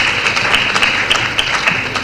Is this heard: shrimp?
no